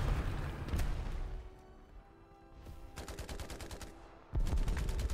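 Tank cannon and machine-gun fire in War Thunder as one tank hits an enemy tank's nose: bursts of rapid repeating shots and heavy booms, loud and near, with a brief quieter gap between the volleys.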